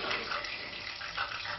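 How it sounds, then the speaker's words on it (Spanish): Hands rinse under a running kitchen tap during a cooking competition, a steady, fairly soft gush of water splashing continuously with no talking. "jamás se laven las manos y no se las sequen"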